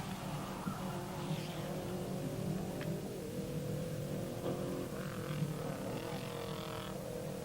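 A Lancia Group A rally car runs a stage at Rally Madeira 1990, its engine note rising and falling through the gears in a continuous, moderately distant drone.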